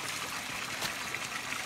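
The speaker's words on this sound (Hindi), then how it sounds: "बहुत ठंडा पानी है" Cold natural spring water trickling steadily at Saptasajya in Dhenkanal, Odisha, a close, continuous splashing stream with no talk over it.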